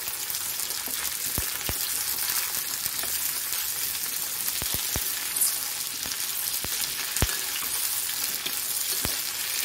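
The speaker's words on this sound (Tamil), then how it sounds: "இது கூடவே கத்திரிக்காயையும் போட்டு வதக்கிக்கலாம்" Brinjal sautéing in oil in a pan hisses in a steady, loud sizzle, punctuated by sharp clicks of a spoon stirring against the pan; no talking.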